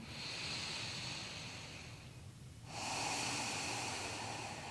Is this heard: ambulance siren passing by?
no